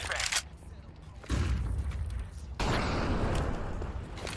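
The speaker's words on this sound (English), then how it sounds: "Flashbang." A flashbang grenade goes off in Counter-Strike 2, a sudden loud burst followed by a sustained roar and ringing blast noise over several seconds, with gameplay sounds and a player's voice around it.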